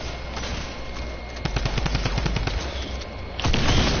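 Rapid gunfire in the Fortnite video game, bursts of cracking shots clustered in the middle and a heavier blast near the end, loud and close with no talk over it.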